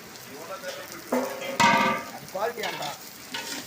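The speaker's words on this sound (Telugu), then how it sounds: "ఆయిల్ వేడెక్కిన తర్వాత పచ్చిమిరకాయలు వేపుకుంటున్నాము పట్టా మగ్గు కూడా వేసానండి తర్వాత ఆనియన్స్ వేసాను" Green chilies and sliced onions fry in hot oil with cinnamon and marathi moggu in a pan for a cashew paneer curry. Bursts of sizzling and stirring clatter come and go, louder in the middle, close to the mic.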